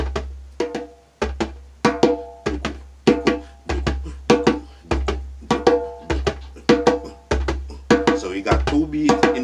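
Kumina riddim drumming played two beats up and two beats down, a steady repeating pattern of sharp hand-drum strikes alternating deep bass thumps with higher tone hits, close and clear with no voices.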